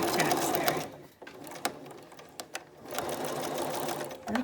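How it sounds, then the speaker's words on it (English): Sewing machine stitching down a fabric protective mask and back-tacking, a steady motor whir with brief pauses and faint clicks between short runs, close and fairly quiet with no voices. "we're going to sew down, back tack"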